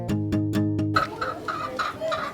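A short chicken sound effect, loud clucking and hen-like calls in quick bursts after a few plucked musical notes, close and clear with no talk.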